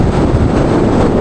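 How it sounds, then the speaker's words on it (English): Strong wind buffets the microphone while bikepacking in Oman, a loud, continuous low rumble and roar with no voices over the short stretch. "It's getting very windy now. Very, very windy."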